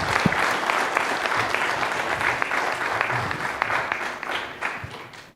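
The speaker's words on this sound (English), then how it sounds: "A round of applause for..." A conference audience at a regulators and policymakers retreat breaks into sustained applause, dense clapping from a sizable crowd that holds steady for several seconds and tapers off at the end.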